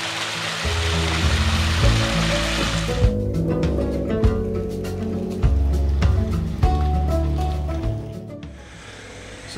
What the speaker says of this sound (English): Well, it's still raining, but it makes it very pretty. It's a nice waterfall down onto the Red Road.